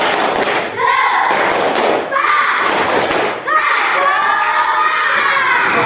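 Schoolchildren in an Indonesian classroom doing a rhythmic spirit clap, loud group claps in bursts mixed with children shouting and chanting together.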